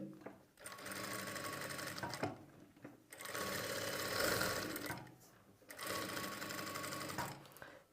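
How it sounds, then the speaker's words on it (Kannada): A sewing machine runs in three bursts of steady stitching along a quarter-inch seam margin during tailoring work, each run several seconds long and separated by brief pauses, with no talking. "ಈಗ ನಾವು ಈ 1/4 ಇಂಚ್ ಮಾರ್ಜಿನ್ ಏನಿರುತ್ತೋ ಆ 1/4 ಇಂಚ್ ಮಾರ್ಜಿನ್ಗೆ ನಾರ್ಮಲಾಗಿ ಸ್ಟಿಚಿಂಗ್ ಮಾಡ್ತೀವಿ"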